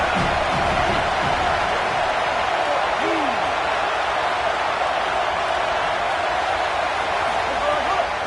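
A football stadium crowd at the Iron Bowl keeps up a dense, steady roar throughout, loud and unbroken, with a commentator's voice faintly mixed under it.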